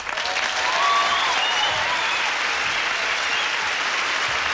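Studio audience applause on a 1973 music variety show, a steady, full wash of clapping without speech, holding at an even level throughout.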